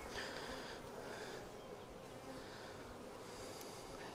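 Honeybees buzz steadily around an open hive while a frame is being worked, a soft, continuous drone close by with no talk over it.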